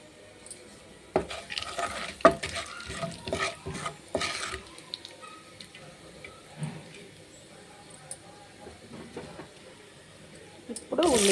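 Whole garam masala spices (cinnamon, cloves, cardamom, shahi jeera) stirred in hot oil for egg biryani, with a soft sizzle and repeated clinks and scrapes of a spoon against the pan, busier early and sparser later.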